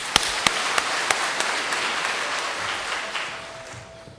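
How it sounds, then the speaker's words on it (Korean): A church congregation breaks into applause at a Sunday service, a dense steady clapping with a few sharp individual claps standing out, gradually thinning toward the end. "우리 힘찬 박수로"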